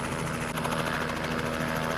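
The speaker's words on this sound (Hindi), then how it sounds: "हम ये दूर से देख रहे हैं हेलीकॉप्टर का देखिए" A helicopter hovers over a village cricket match at Neral, its rotor chop and engine drone steady and fairly loud throughout, with no talk over it.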